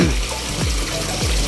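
Water runs steadily into a 3 m diameter tilapia fish pond as it refills after draining, a continuous close splashing wash with no voices.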